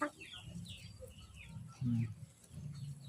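Faint clucking and soft calls from ducks and chickens being fed, scattered chirps over a low rumbling background, with a brief thump partway through.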